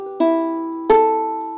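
An out-of-tune ukulele is strummed twice, each chord ringing out and decaying, close and clear with nothing else heard.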